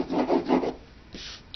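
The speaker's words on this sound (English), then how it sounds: "If you have a rubbing crayon, like a blue rubbing crayon, you can just rub it along and it'll cover it pretty well" A blue crayon scrubs back and forth across paper to fill in a background, a soft dry rasping in a few quick strokes, close and quiet with no voices.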